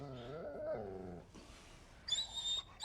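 An injured dog, bitten by a cougar, whimpers and whines in a short high-pitched wavering cry, followed by a breathy noise and a thin sharp yelp-like tone, fairly faint overall.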